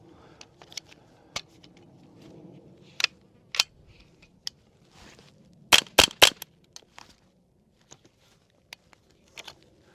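A .22 rifle fitted with a HuxWrx Flow 22Ti suppressor fires subsonic ammunition, giving sharp, quiet cracks spread across the stretch, including a quick cluster of three, with faint handling noise between.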